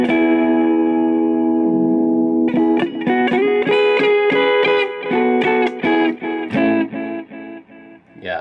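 A guitar played through a Catalinbread Belle Epoch tape-style delay pedal, with the echo sustain turned up. A sustained chord is followed by picked notes whose repeats stack, warble and fade in rhythmic pulses, loud and with no talking.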